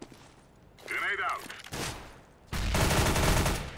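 Rifle fire in the video game CS:GO, a couple of sharp shots followed by a dense, loud burst of rapid gunfire, heard with someone talking over it.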